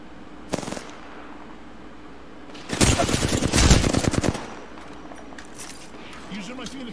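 Bursts of automatic gunfire in a squad battle-royale shooter, a brief shot early then a loud rapid volley over a few seconds, with a teammate talking around it.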